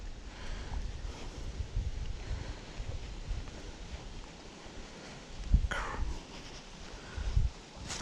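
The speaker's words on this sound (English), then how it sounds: "The wind is up" Wind blowing steadily across the mic out on a river while fishing in the afternoon, a continuous rushing buffet with a couple of louder gusts and faint water movement.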